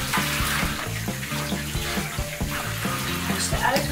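Shower water spraying steadily while a puppy is washed in a bathtub, a continuous close hiss with splashing, under occasional background music.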